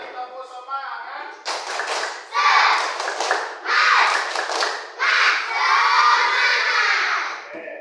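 Schoolchildren in a classroom doing a spirit clapping chant as an ice-breaker, with loud, close bursts of rhythmic group clapping and shouted chanting in several waves, after a brief voice at the start.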